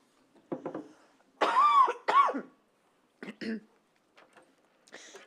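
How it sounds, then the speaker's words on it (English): A few harsh coughs come in separate bursts during a formal hearing session, with a throat-clearing sound and short pauses between them, close and fairly loud. "Horrible cough, sorry,"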